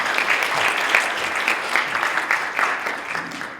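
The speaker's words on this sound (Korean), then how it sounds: "우리 다 같이 박수 치면서" A forum audience claps together to close a panel session on real estate, steady dense applause heard close and loud throughout.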